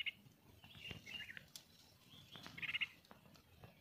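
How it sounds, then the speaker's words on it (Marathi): Quiet outdoor scene with a few short, high chirps from bird chicks, faint and intermittent, separated by soft rustling and small tapping sounds. "ह्या पक्षी आहे ना भोरिंडी पक्षीची ही पिल्लं आहेत बघा"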